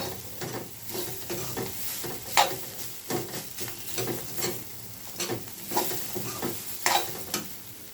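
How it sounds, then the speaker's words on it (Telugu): Bitter gourd (kakarakaya) frying in a pan on low heat, a continuous crackling sizzle broken by repeated scraping stirs of a spoon, close and fairly loud with no talking. "సిమ్లో పెట్టి వేయించుకున్నాను"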